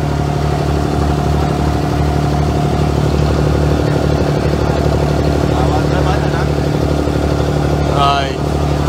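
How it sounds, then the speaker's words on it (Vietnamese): Water taxi boat engine running on a Dubai sea creek, a loud, steady, close mechanical drone throughout with a brief rising whine near the end. "Đây gọi là taxi nước, y như ghe bên Việt Nam"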